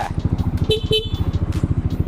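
Two short horn beeps from a 2020 Yamaha X-Max scooter sound close by over the steady putter of its idling engine.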